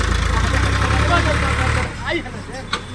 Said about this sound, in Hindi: देखिए ट्रैक्टर जाता है